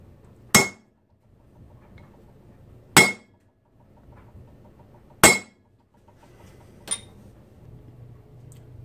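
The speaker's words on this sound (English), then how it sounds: "as I hammer down on the hole, the radius, the edge, or the chamfered edge actually, of the ground part on the cap screw will peen the hole" Four sharp hammer strikes ring out one at a time, spaced a couple of seconds apart, as a cap screw is hammered to peen a pin hole in a 6-71 blower rotor, with quiet workshop background between blows.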